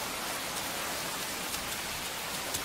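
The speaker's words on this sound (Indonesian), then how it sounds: "Ya ampun, Nana, kamu mandi hujan." Steady cartoon rain falls in a dense, even hiss, with a few faint droplet taps standing out now and then and no voices.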